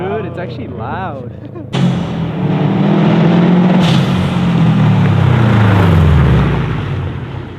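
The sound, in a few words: Subaru STI blow off valve heard from outside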